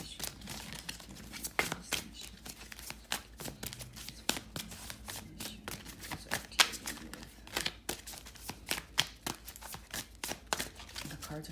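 Tarot cards shuffled by hand give a steady run of quick, close riffling snaps and soft papery flicks, repeating without a break over a low room hum.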